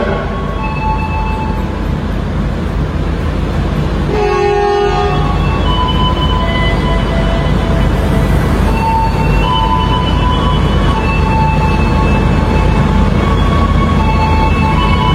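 Argo Dwipangga express train at a station on the Jakarta–Solo route, a loud, steady rumble of the train and rail noise filling the whole stretch, with faint squeals and tones drifting in.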